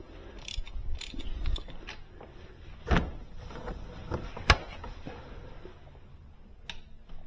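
A ratchet with a 19 mm 3/8 drive socket turns the engine coolant temperature sensor on a 2012 Scion iQ, making quiet bursts of clicking with a few sharper metallic knocks between pauses, close and unaccompanied by speech.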